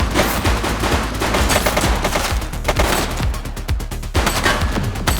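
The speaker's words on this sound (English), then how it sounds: "He's shooting!" Rapid gunfire in the police video game The Precinct, loud and dense, with bursts of automatic shots cracking in quick succession almost without a break.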